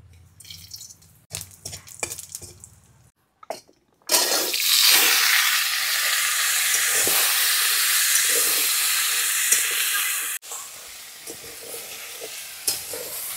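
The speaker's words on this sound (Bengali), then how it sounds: "দিয়ে দিচ্ছি শুকনো লঙ্কা আর জিরে।" Dried red chillies and cumin seeds hitting hot oil burst into a loud, close sizzle lasting about six seconds, then settle into quieter frying, with utensil clatter beforehand.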